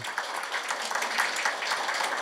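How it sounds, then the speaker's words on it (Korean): An audience at a district office staff meeting applauds to congratulate award winners, a steady even patter of clapping at moderate level. "박수로 축하해 주시기 바랍니다"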